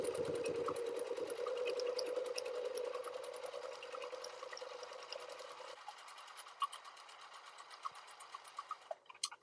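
A sewing machine runs steadily through free-motion quilting of a heart tendril, its needle ticking in a close, even rhythm before the motor hum drops away and a few separate clicks trail off.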